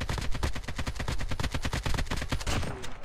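Rapid bursts of gunfire in Call of Duty Mobile battle royale, a steady run of loud close shots in quick succession for several seconds with no speech over them.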